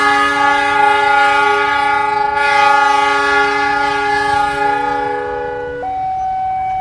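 A train horn blares loudly and steadily as a KRL electric train is shunted at a level crossing that is closing, the sustained multi-tone blast shifting pitch near the end before easing off.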